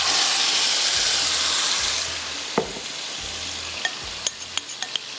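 Chicken pieces fry in hot oil in a pan, giving a loud, steady sizzle that eases slightly midway, with a few sharp clinks and taps near the end.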